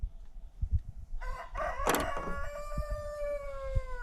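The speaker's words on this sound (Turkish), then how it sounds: "horoz dellendi" A single rooster crows nearby, one long harmonic call rising and then trailing off, preceded by soft rustling and thumps.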